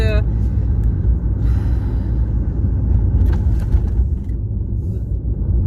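Car driving, heard from inside the cabin: a steady low engine and road rumble throughout, with someone talking over it.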